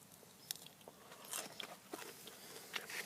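Biting into a freshly harvested radish: a few faint, crisp crunches and small chewing sounds up close, quiet and alone without talk.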